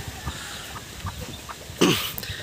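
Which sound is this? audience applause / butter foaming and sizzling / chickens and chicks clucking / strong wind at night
chickens and chicks clucking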